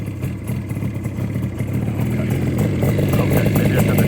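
A 1976 Yamaha RD400 motorcycle engine runs steadily just after a cold start, a loud, close, continuous mechanical drone with a slight rise in level, heard alone without talk.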